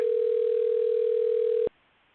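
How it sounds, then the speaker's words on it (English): A single steady telephone ring tone on an outgoing call, clear and close, cutting off abruptly after under two seconds into near silence. "It's ringing, so he's blocking my call."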